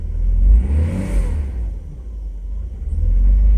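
A Mercedes 600SL engine revs loudly with a deep rumble, swelling and falling as the throttle opens but pulling with little power, then rising again toward the end; no one speaks.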